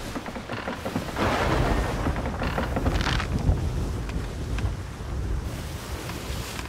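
A ship sails through a storm in the pirate game Sea of Thieves, with continuous roaring wind and crashing waves surging and easing around the hull.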